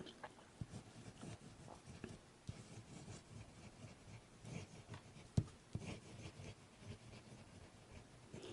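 A Knox Aristotle fountain pen with a wet nib writes on paper with faint, soft scratching strokes and occasional light taps, quiet and close.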